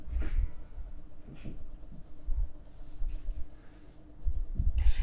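Marker or chalk writing on a board in a classroom, soft scratchy strokes in several short bursts between quiet pauses, with faint low background sound.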